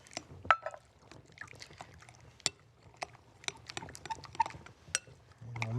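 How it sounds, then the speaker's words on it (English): Water poured slowly into a lumpy flour mixture and stirred into a pasty batter, heard as soft intermittent splashes, drips and scraping taps close by, with no talking. "So just add the water slowly, get it to be a nice kind of pasty mix"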